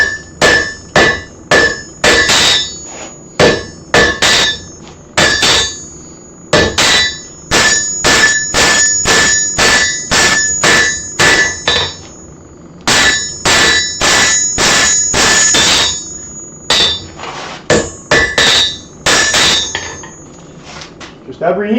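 A hammer taps in ringing metallic bursts, loud and close, coming in rapid clustered runs with short pauses between groups over about twenty seconds.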